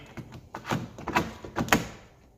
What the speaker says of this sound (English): Pop your lock back in.